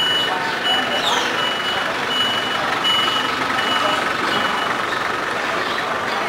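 Buses pull out of a bus station while a vehicle's reversing alarm beeps repeatedly over a steady wash of engine and traffic noise, with faint background voices.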